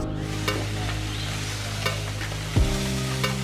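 Beef ribs with the membrane left on sizzle steadily over direct heat on a Weber Smokey Mountain smoker, a close, even crackle with occasional sharper pops and a low hum underneath.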